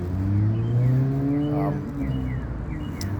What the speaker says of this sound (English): This came with a race exhaust and a race ECU. So it's pretty much like a straight pipe.